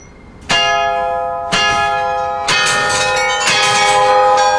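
The carillon bells of the Collegiate Church of Saint John in Liège ring out one after another, four loud resonant strikes with long ringing overtones overlapping as each new bell sounds.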